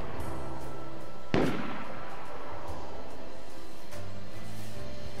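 A single loud gunshot in a military shooter video game, a sharp crack that rings out and decays over a constant background rumble.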